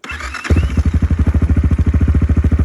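A Geon GNS 300 motorcycle engine fires up in winter woods and settles into a loud, close, steady rapid thumping idle with an even pulsing rhythm, no speech over it.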